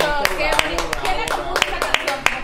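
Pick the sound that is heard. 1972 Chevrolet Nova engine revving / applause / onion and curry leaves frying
applause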